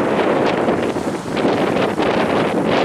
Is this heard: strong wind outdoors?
yes